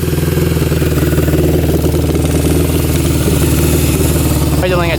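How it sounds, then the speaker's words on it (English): A Honda CB750 motorcycle engine idles steadily at around 2200 RPM, loud and close, with an even, continuous throb and a brief change near the end. "Idling at 2200 RPMs."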